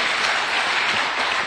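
An audience claps in a continuous, dense burst of applause that stays loud and even throughout, with no voices over it.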